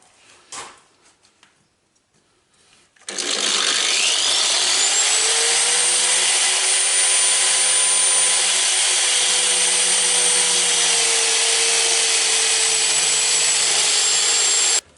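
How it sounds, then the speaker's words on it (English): An angle grinder starts after a few quiet seconds, spins up and grinds steel calipers into a scribe gauge, giving a loud, continuous high-pitched whine with a steady tone for over ten seconds. "I think my angle grinder idea was not too bad, it seems to work."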